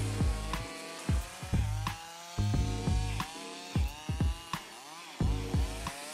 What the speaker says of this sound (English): The powerful saws make quick work of the dense red mahogany wood.